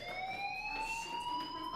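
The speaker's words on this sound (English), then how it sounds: "Hey, do you hear that fire alarm?" A fire alarm sounds in the video game Life Is Strange: a continuous, slowly rising electronic wail with strong harmonics, steady and fairly loud throughout, with no talking.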